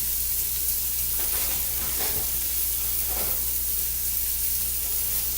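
Croutons frying in a pan give a close, continuous sizzle with a broad steady hiss and a few brief swells of crackle as they are stirred, with no talking.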